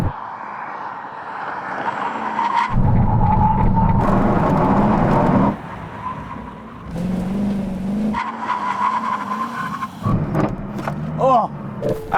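A Koenigsegg Agera RS and a Tesla Model X Plaid launch in a drag race: loud, close engine roars rise and drop in bursts through gear changes, with tire squeal and sharp whines, then fade.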